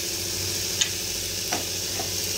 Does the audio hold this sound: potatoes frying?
yes